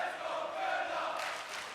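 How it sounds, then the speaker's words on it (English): A loud crowd roars continuously at an esports 1v1 final, with German supporters cheering throughout and the noise swelling slightly toward the end. "you hear the crowd, you hear the deafening German support on your right side"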